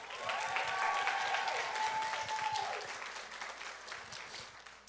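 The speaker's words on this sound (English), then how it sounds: "one more round of applause for that incredible performance" A graduation ceremony audience breaks into loud, continuous applause after a performance, with a whistle or cheer rising above the clapping before it gradually thins out.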